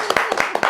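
A handful of quick, sharp hand claps ring out close by in an uneven rhythm at a live talk event, over a brief moment.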